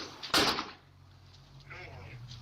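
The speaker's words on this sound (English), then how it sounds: "Dude, my door just closed. Is that the slam sound?" A house door swings shut with one sharp close-up thud, then only a low room hum is left.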